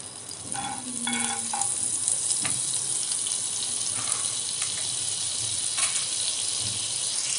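Butter sizzles in a pan heated for roasting sandwiches, a continuous bright hiss with a few short clinks near the start and soft scrapes later.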